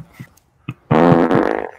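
A fart sound on a live stream: a couple of small puffs first, then one loud, long, buzzy raspberry that flutters out toward the end, with no talk over it.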